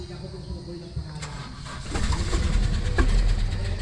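A Toyota Revo with a check-engine fault is started: a brief crank, then the engine catches and settles into a loud, steady idle rumble, close by.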